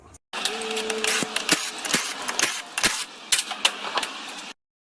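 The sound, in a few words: tapping tie rod ends out of a Ford BA XR6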